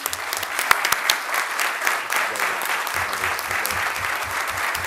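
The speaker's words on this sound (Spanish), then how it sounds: "yo quisiera empezar eh, con un aplauso para nuestro compañero por todo su trabajo y entrega" Audience applause at a public ceremony marking the day against drug abuse and illicit trafficking, a dense steady patter of many hands clapping for nearly five seconds, close and fairly loud, with scattered voices underneath.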